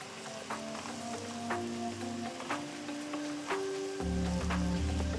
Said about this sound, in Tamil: கொஞ்சம் தண்ணி ஊற்றி மசாலா தூளோட பச்சை வாசனை போகிற வரைக்கும் கொதிக்க விடுங்க